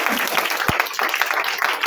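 A church congregation applauds during a sermon, with dense, sustained clapping and cheering voices mixed in throughout the brief moment.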